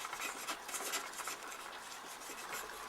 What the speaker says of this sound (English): working the chisel on the flat